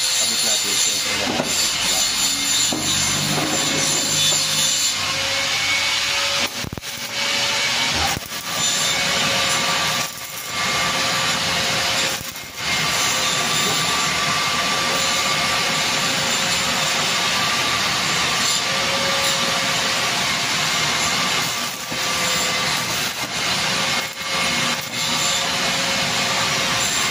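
A homemade circular saw built from an angle grinder cutting wood, heard as a loud, steady high-pitched whine with brief dips and bursts as the blade bites, close by, with a few voices faintly underneath.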